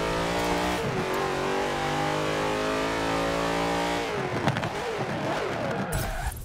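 A 16-litre drag-racing engine in Forza Horizon 4 revs hard and steadily, its harmonics climbing, then drops off with rough burbles and crackles near the end, loud and up close with no one talking.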